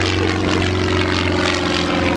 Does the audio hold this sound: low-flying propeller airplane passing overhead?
yes